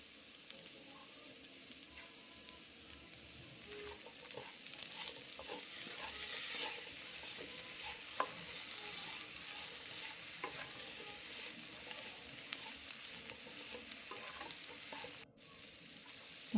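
Tomato, onion and carrot fry in oil for carrot chutney. The oil sizzles faintly and steadily with soft intermittent stirring.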